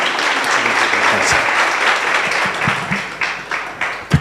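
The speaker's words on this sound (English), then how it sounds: "Give a round of applause to my brother" An audience at a memorial lecture award ceremony breaks into sustained applause for a presenter, a dense wash of clapping that thins toward the end into a few scattered, louder individual claps.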